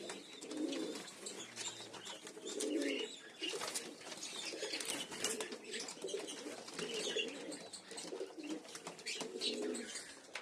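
Pigeons in a loft give soft, repeated throaty coos in a steady rhythm, close and fairly quiet, with faint chirps around them.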